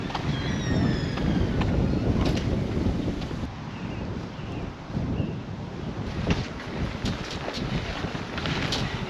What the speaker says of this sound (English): I'm changing direction now and I'm walking across the wind, and it's decidedly chilly